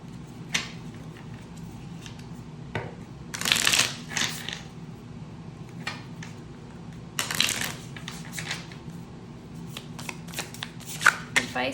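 Tarot cards shuffled by hand in bursts, a few riffling runs with softer handling and taps of cards between them, close and fairly quiet, with no talking.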